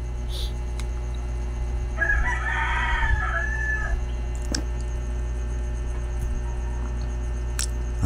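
A rooster crows once at moderate distance, a single drawn-out call lasting about two seconds over a steady low background hum.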